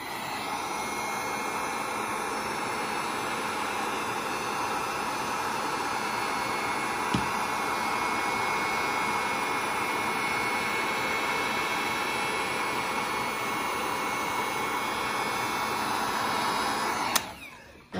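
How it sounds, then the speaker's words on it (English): A heat gun blows on heat-shrink tubing over an L5-30 power cable connector, giving a steady, loud, close whooshing roar that runs unbroken, with a short click near the end. "Heat gun."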